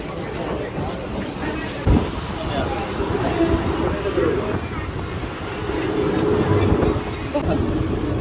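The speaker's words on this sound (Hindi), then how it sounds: "तो देख सकते हैं ये लोकल ट्रेन ये रही।" A Mumbai local commuter train rumbles steadily nearby, with a continuous rolling roar and faint rattling of cars, while people talk under the noise.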